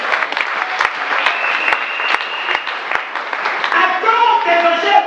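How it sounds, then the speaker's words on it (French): A church congregation at a Sunday service claps and applauds loudly and steadily, with voices and cheers mixing into the crowd noise toward the end. "Est-ce qu'il y a quelqu'un pour acclamer pour ça?"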